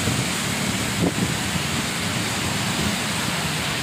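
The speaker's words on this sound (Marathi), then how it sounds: "प्रचंड असा पाऊस आज मुंबईमध्ये कोसळतोय" Heavy monsoon rain falling on a highway in Mumbai, a dense, unbroken roar of downpour with wind-like rumble and a faint thump, close and steady throughout.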